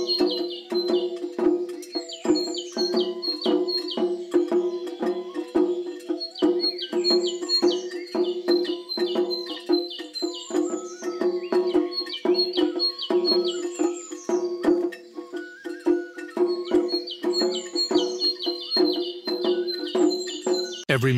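Birds chirp in a garden in an animated scene, with repeated bright, rhythmic tweets and trills at a steady pace over a faint low tone, close and clear throughout.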